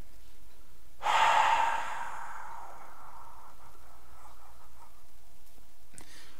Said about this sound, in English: It's an open mouth, fogging up of the glass, long, slow exhale.